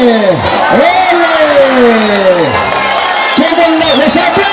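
A crowd at a village fiesta bullfight in Picoy cheers loudly and close by, with long rising and falling shouts and whoops overlapping in waves.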